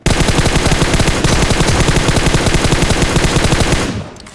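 A video game shootout with a gun fired in one long, loud, rapid automatic burst, close and steady for about four seconds before cutting off abruptly, with no talking.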